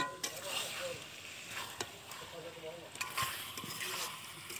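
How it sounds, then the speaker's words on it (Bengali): Spatula stirring and frying of home-style chicken curry with potatoes over a clay stove, with faint scraping and soft sizzling under quiet background noise. "এদিকে আবার খুন্তিনিয়েরও রান্না করছি। কি সুন্দরভাবে কষাচ্ছি দেখো।"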